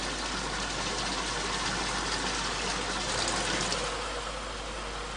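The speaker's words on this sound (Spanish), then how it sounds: "El arroz pasa por una zona de duchas donde se le retira la fina capa de harina" Water showers rinsing rice in a processing plant, a dense steady rushing gush with machinery hum beneath, continuous and fairly loud throughout.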